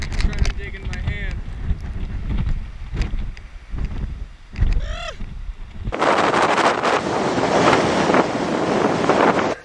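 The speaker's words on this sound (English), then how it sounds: "That was quite the windy experience" Strong wind buffets the microphone on a beach at Big Sur, a roaring continuous gust dominating the second half after a stretch of quieter wind and surf with brief voices.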